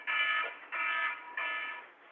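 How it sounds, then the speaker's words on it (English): A fire alarm sounds in a county subcommittee meeting room: three long, steady electronic blasts with short gaps between them, fairly loud and with no talk over them. "Sounds like a fire alarm."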